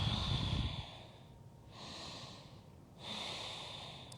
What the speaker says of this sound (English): We'll take 2 more breaths here.